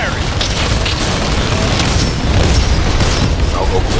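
Relentless heavy gunfire and rumbling blasts in a Titan mech shooter game, loud and unbroken for several seconds, with a voice speaking over the barrage.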